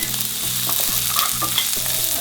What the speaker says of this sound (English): Okay, this has been frying for a couple of minutes.